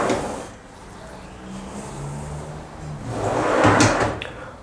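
Vegetable drawers in a home kitchen sliding open and shut, giving a low rolling rumble followed by a louder slide and knock near the end, with no talking.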